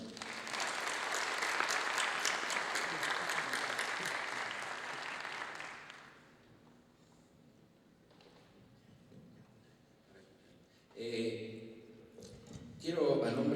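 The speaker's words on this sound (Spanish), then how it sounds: "por el cual solicito brindemos un aplauso" Audience applause following the introduction of a speaker at an academic conference, strong steady clapping for about six seconds that fades out, then quiet room noise before a voice begins speaking.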